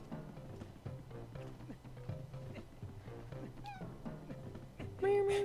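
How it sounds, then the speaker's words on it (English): A female pet cat chirps and gives a couple of short meows near the end, the calls rising over steady background game music with rhythmic low beats. "our cat's still up here with us. She's still chirping."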